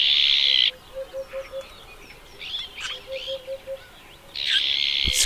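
Azure-winged magpies in Spanish dehesa woodland give harsh, buzzy rasping calls at the start and end. Between them runs a soft, evenly spaced series of low hooting notes in a calm, open setting.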